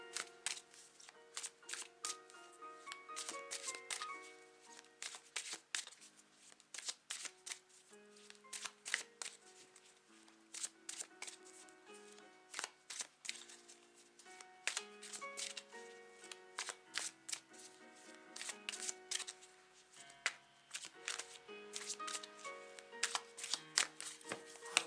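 Tarot cards are shuffled steadily for about twenty-five seconds, a soft, close, continuous patter of riffling and slapping card edges with no voices.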